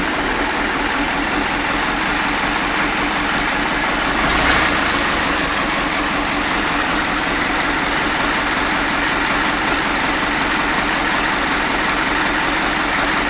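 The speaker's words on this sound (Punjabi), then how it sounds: "ਟਰੈਕਟਰ ਹੈ ਨਵਾਂ" A new tractor engine idles continuously with a low, even rumble, close and unchanging throughout, with no talk.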